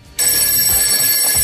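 A telephone rings loudly and continuously, a steady electronic ring that starts abruptly and fills the short moment with no talking.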